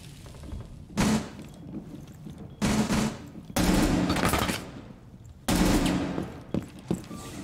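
Gunfire in a shooter video game as players shoot through a wall: four loud bursts of rapid automatic fire, each lasting about half a second to two seconds, separated by quieter gaps with faint mechanical clatter.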